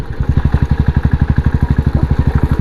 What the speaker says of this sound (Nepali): 350 सीसीको क्लासिक बुलेट बाइक कुदाइरहेको छु